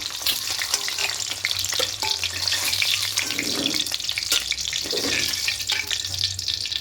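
Beaten eggs fry in hot oil in a pan with a close, continuous crackling sizzle, with occasional utensil scrapes and no talking.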